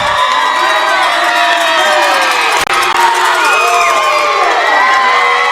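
A loud crowd at a high school competitive dance prelims cheers, screams and whoops continuously, a dense roar of mostly young voices filling an indoor arena.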